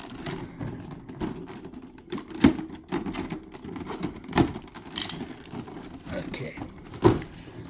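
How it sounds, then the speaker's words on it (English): Packing tape on a layered figure box blister being cut, giving a string of sharp, close clicks and snips in an uneven rhythm, with a few louder cracks standing out. "we'll cut the tape and separate them"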